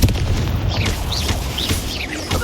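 In the video game Hogwarts Legacy, a Confringo spell hits with a heavy, booming explosion, a deep rumble with crackling bursts layered over it that holds loud for a couple of seconds.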